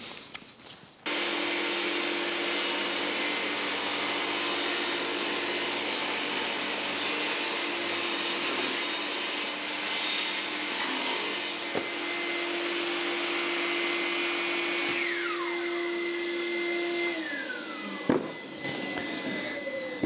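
A table saw whirs up and runs steadily for nearly twenty seconds, loud and close, as wood is fed through with push blocks, the motor tone holding level before spinning down near the end.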